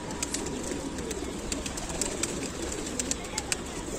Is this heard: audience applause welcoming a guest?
no